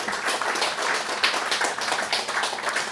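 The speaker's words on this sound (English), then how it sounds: "It's always awkward knowing when to applaud, isn't it, if you're reading more than one piece?" Audience applause following a poetry reading, many hands clapping in a dense, steady patter that holds evenly for several seconds.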